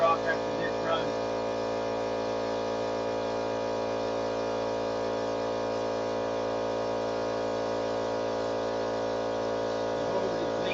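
An air compressor running during a paint job, a steady, unbroken electric hum and drone that holds at an even level throughout, with a few faint sounds at the start.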